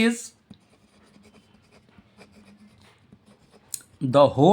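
Pen or pencil scratching on paper while working a Class 9 geometry exercise, with soft intermittent strokes under a quiet room; a voice talks briefly at the start and end.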